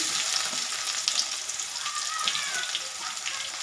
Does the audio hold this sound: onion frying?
yes